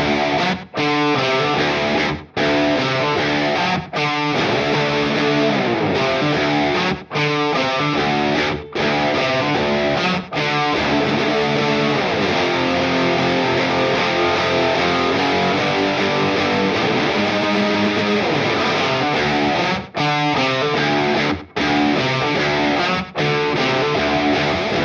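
Distorted electric guitars play through a J. Rockett Archer Select overdrive pedal with no backing track, giving a dense, sustained crunchy tone with chords and brief pauses, loud and continuous.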